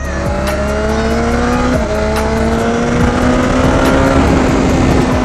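A BMW S1000R 1000cc motorcycle accelerates hard, its engine note climbing loudly and close with a sharp gear change partway through, then rising again.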